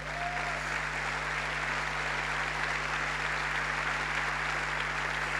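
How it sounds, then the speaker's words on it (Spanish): A church congregation applauds together in a steady, continuous round of clapping that fills the whole stretch, dense and sustained without a break, with a low hum running beneath it. "Dale un aplauso al Señor."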